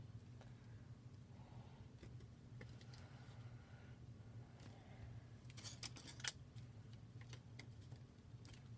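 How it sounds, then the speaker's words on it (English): Scissors snip through craft material at a tabletop Easter display project, giving a run of quick, crisp close cuts over a steady low background hum, with no talking. "these cut with your scissors"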